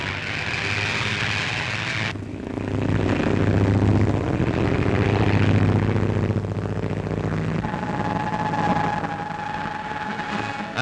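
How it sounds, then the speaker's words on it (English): Propeller engine of a PBY patrol bomber flying boat swelling to a loud, steady roar as it takes off, then easing off with a lingering hum and a faint whine, no voices present. "the student is ready for his first takeoff in the PBY itself."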